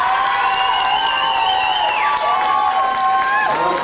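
Cheering and whooping from an audience greeting a contestant at the Miss Premium Bonds 1992 pageant in Blackpool, a steady loud crowd roar with high shouts for the whole stretch.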